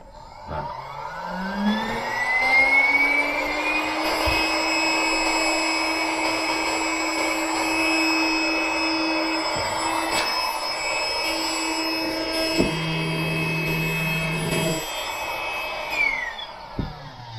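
A USB-C powered electric air pump runs on a power bank while inflating an inflatable pillow, giving a steady close whirring drone with a rising pitch at start-up and a stop near the end.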